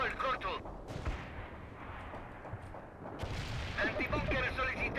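Bombs dropped in World in Conflict detonate in a dense, continuous rumble of low booms and crackling blasts, with a voice talking over part of it.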